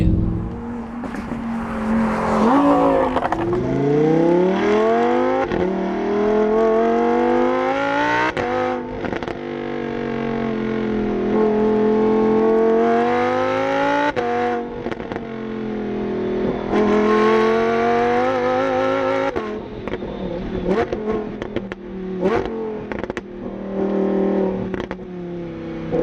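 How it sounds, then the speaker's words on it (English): A stock Lamborghini Huracán Performante engine revs hard and climbs through gears, rising and falling in loud howling sweeps with sharp crackles, close and continuous. "Lambos sound how most cars sound after you put a aftermarket exhaust on"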